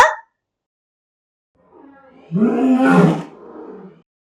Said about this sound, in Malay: Okey, kita dengar sekarang ya macam mana bunyi singa.